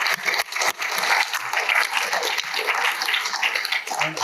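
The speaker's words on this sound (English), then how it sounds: "Give a round of applause to everybody." An audience at a panel event gives a round of applause, a full, steady wash of clapping from many hands, close and loud with no talk over it.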